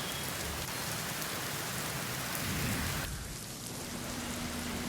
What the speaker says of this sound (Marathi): शहरातील अनेक भागात मुसळधार पाऊस सुरू झाला आहे